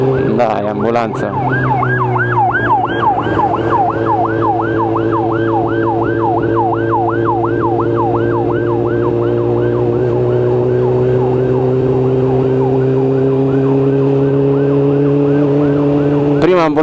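Close and loud, an ambulance siren on a road near Timișoara wails in quick rising-and-falling cycles over a steady engine drone, then settles into a longer tone toward the end.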